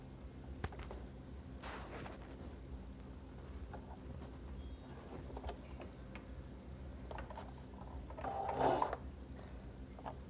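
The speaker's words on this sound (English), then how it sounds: "Now we're going to sew." A sewing machine sews a zipper seam on a clutch purse, with a faint steady mechanical hum and clatter running throughout and a few light taps, one slightly louder near the end.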